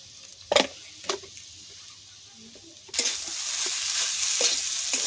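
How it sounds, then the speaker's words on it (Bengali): A cauliflower chop mixture seasoned with salt and sugar is stirred in a frying pan: two sharp spatula scrapes come first, then a steady close sizzle of frying swells from about the midpoint, with stirring clinks under it. "আর একটু ভালো করে ভাজা ভাজা করে নেব।"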